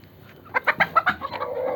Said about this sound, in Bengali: দুটো মুরগি ডিম পারতেছে।